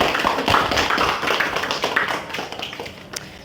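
A group of students at a vocational high school clap their hands in a brisk, dense round of applause that fades out over a few seconds.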